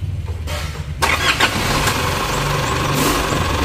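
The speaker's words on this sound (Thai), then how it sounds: "เราจะสตาร์ทให้ดูก่อนนะครับกับปัญหาของคันนี้นะสตาร์ทเครื่องให้อยู่ก่อนแล้วก็จะรันต่อเนื่องนะครับ" Isuzu D-Max with a 4JK1 diesel engine cranking and catching, then settling into a steady, close idle that runs on evenly.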